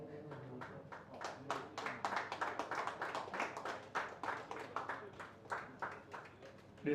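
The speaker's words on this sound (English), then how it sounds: "Please keep applauding" Dense, continuous applause from an audience at a throwball league player auction, many hands clapping steadily with a few sharper louder claps, no clear talk over it.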